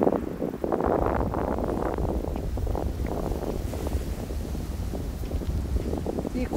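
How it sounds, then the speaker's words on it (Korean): Wind blows through pine trees in a forest: a steady, loud, rushing roar with gusty surges throughout. "솔바람 소리"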